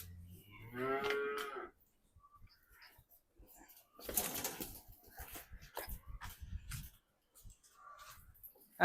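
A red bull's calf lets out a drawn-out moo early on, followed by scuffling, thuds and shuffling movement close by, then a brief faint call.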